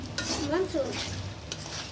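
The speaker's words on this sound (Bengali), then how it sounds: "আমি এখন এটার একটু ভাজা ভাজা করে নেব।" Rice and lentils with a little dried red chili being stir-fried in a pan for khichuri: a spatula scrapes and stirs across the pan over a soft, steady sizzle, close and moderately loud, with no one talking.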